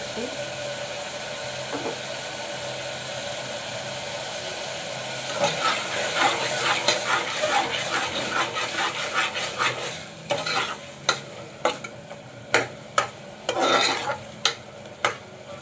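Tomatoes fry in a pan while a utensil stirs them, giving a soft sizzle followed by a run of scraping strokes and then distinct, separate spatula knocks against the pan, close by.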